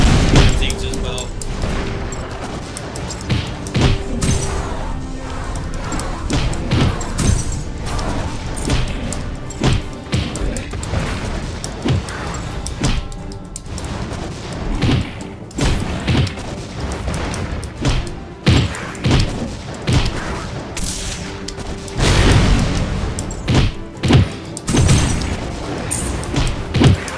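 Missile launcher fire in the M.A.S.S. Builder mech video game, with repeated booming explosions and crashing impacts in dense irregular bursts throughout, under steady game music and effects.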